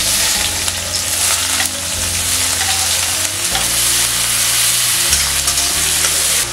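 Two medium-sized chopped onions hit hot oil in a pan with whole garam masala, giving a loud, continuous sizzle and crackle with occasional stirring scrapes and no talk.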